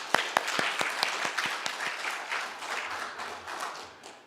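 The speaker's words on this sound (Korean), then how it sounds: "박수 한번" A church congregation applauds during a New Year's Eve worship service at San Jose Valley Church. A few distinct, crisp claps ring out first, then soften into lighter scattered clapping that fades toward the end.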